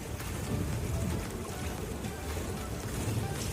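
A small boat out on the Rishiya dam lake among blooming water lilies, its steady broadband rush of motor, water and wind noise running loud and unbroken throughout with no clear voices.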